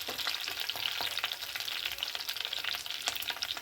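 Curry leaves fry in hot oil for a brinjal curry, giving a steady close sizzle with small crackles and a few stirring sounds throughout, no voices.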